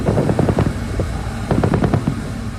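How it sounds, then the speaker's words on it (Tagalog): Heavy machine guns fire during a multinational naval gunnery exercise at sea in the West Philippine Sea, shooting at a floating balloon target. Two loud rapid bursts of repeated shots are heard, each lasting about a second, with a brief gap between them. "umalingaw rin sa malawak na West Philippine Sea ang sunod-sunod na putok ng heavy machine guns"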